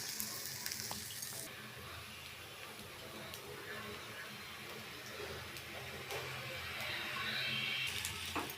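Adai, a lentil pancake, fries in a pan with a soft, continuous sizzle that stays even and fairly faint throughout.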